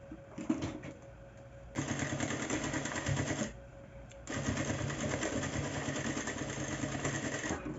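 A sewing machine with a presser foot stitches along the side of a fabric bag in two steady whirring runs separated by a brief pause, close and fairly quiet.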